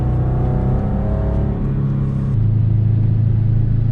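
A Subaru WRX STI on a race track, its engine droning loud and close in a steady rumbling tone that shifts pitch as it accelerates.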